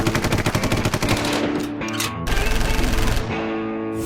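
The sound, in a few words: gunfire salvo sound effect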